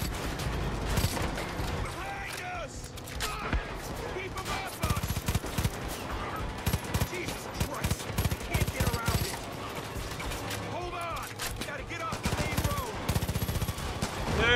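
Sustained gunfire in the video game Far Cry 5, rapid automatic bursts and fusillades rattling loudly and continuously through the whole stretch, with voices talking in the middle of it.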